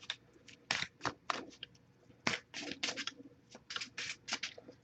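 Tarot cards shuffled by hand at close range during a reading, a quick series of soft riffling, slapping bursts in an irregular rhythm, with no voices.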